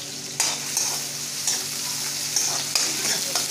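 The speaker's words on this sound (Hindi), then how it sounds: "अब लहसुन है वो मैं फ्राई होने के लिए डाल रही हूँ।" Chopped onion and garlic sizzling in hot oil in a pan for dal fry, with a steady crackle of frying and occasional stirring scrapes close up.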